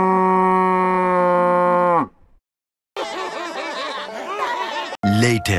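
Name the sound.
cow mooing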